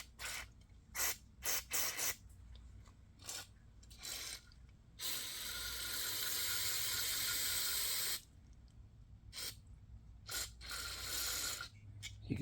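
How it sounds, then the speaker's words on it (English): Cleaner is sprayed onto the carburetor of a 2010 Yamaha Drive G29 golf cart in several short hissing bursts, then one long continuous spray, then more short bursts, close and alone. "You can see the spray right in there."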